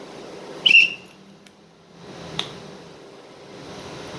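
One short, sharp basketball referee's whistle blast, loud and close, followed by quiet with a faint click.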